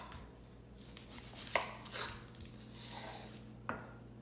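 A knife cuts the ends off a red onion on a cutting board, giving a few soft, close chops and board knocks, with sharper strikes near the middle and toward the end.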